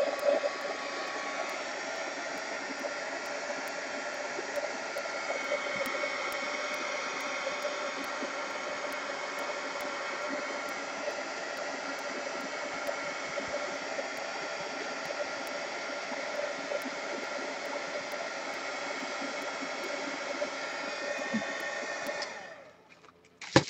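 A heat gun drying a napkin-inspired art journal page gives a steady, close, airy blowing roar that runs unbroken for over twenty seconds, then cuts off at the end, with no talk over it.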